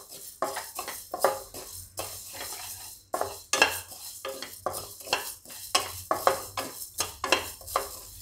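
Whole spices dry-roasting in a pan with no oil for dabeli masala, stirred close up with a steady run of scraping, rattling clatter and a faint sizzle. No voices are heard.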